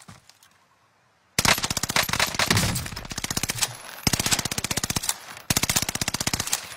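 Automatic gunfire in Call of Duty Warzone 2.0, rapid close bursts with a short pause between them, following a near-silent opening; no voices.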